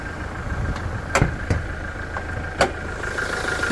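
A 2020 Toyota Hilux SR 4x4 with its 2.8 litre turbo diesel idles under an open bonnet, giving a steady low rumble with a few sharp ticks and knocks scattered through it. No one speaks.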